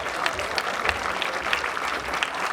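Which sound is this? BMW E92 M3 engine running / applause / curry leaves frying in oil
applause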